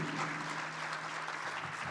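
An audience at a jazz band concert applauds a trumpet soloist, a dense, steady wash of clapping heard at moderate distance with no break.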